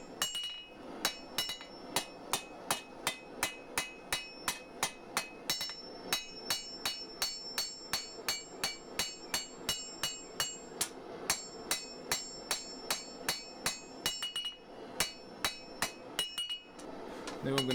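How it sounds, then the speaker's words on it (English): Steady hammer blows ring on a steel bar being forged, dozens of sharp evenly spaced strikes with bright clanging overtones, close and loud, pausing briefly near the end. "I'd rather change the shape now with the hammer."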